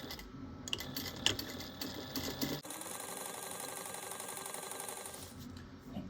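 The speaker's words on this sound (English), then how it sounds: "I'm going to add a little top stitching at 1/8 of an inch." A sewing machine runs steadily, top stitching along a fabric pocket with a continuous close whir after a few short starts, then stops near the end.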